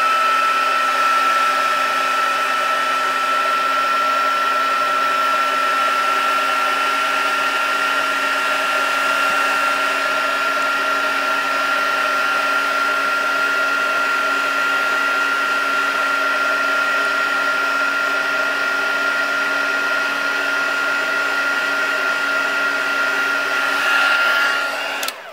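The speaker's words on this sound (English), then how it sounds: "go very slowly and up high with the heat tool" Embossing heat tool blowing hot air steadily at close range while melting embossing powder on a clear 3 x 6 cellophane bag, a loud continuous whirring hum with a fixed whine that runs unbroken and cuts off at the end.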